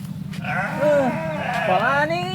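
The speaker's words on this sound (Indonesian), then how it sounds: "Aya kandang domba" Sheep in a pen bleat in wavering, nasal cries, two drawn-out calls close by over steady background noise.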